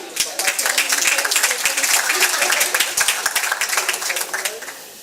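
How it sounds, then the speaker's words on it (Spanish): Warm, steady applause from an auditorium audience after a speaker is introduced, many hands clapping with sharp individual claps standing out, tapering slightly toward the end. "Un fuerte aplauso para ella."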